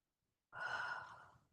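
A single slow, deep exhale fills a quiet yoga mat class, a soft close breath that begins abruptly after silence and then gently fades.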